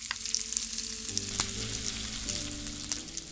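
Pop Rocks candy crackling and popping in sticky slime melted by their sugar into a soupy mush, a steady close fizzing sizzle with a few sharper pops standing out.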